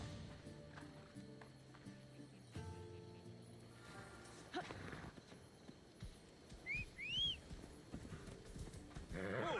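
Horse hooves clip-clopping in Assassin's Creed Odyssey, set on a Greek island, steady and fairly close, with a couple of whinnies and background music, no talk.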